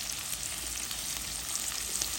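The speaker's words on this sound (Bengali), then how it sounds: "দিয়ে দিলাম তেল, দিয়ে দিলাম পেঁয়াজ, দিলাম টমেটো" Onion and tomato sizzle in hot oil in a cooking pan, giving a steady, dense, close frying hiss that holds evenly throughout with no voices.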